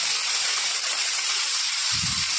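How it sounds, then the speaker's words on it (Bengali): Eggplant slices fry in hot oil, giving a steady loud hiss and spatter throughout, with a brief low thump near the end. "তো এবার বেগুনগুলো ভেজে নেব"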